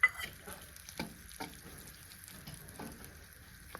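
Gram flour roasting in a little oil in a pan makes a soft, faint sizzle broken by light stirring taps and scrapes, close and without any talk.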